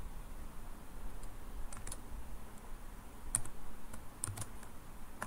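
Computer keyboard typing while entering a new user's name, a quiet run of soft key clicks with a few sharper taps, close and alone over low background hum.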